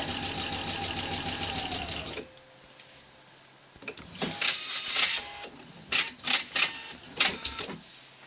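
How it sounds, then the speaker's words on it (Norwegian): A sewing machine stitches fabric strips together edge to edge at a precise seam allowance, running loud and steady for about two seconds before stopping, followed by quieter handling sounds. "Og jeg syr sammen med mitt nøyaktige sømmål."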